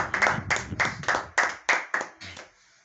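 A church congregation claps in praise of Jesus, about nine firm, evenly spaced claps in a quick rhythm that stop abruptly, with no voices over them.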